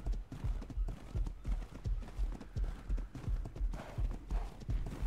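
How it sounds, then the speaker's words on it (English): Rhythmic clip-clop of a horse's hooves in a video game, steady repeated thuds at a trotting pace, close and moderately loud, with no talking. "Okay, so the horse is nearly dead."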